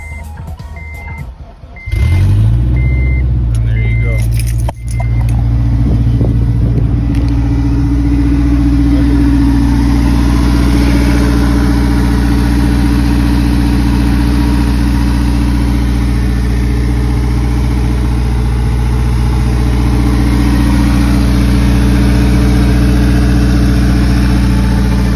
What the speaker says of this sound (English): You guys saw the car running